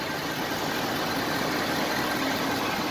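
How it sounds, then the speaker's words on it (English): A 2016 Ford F-350 pickup truck engine idles in a steady, even rumble that holds constant throughout, with no talking. "I like to have my videos running with the engine running as well"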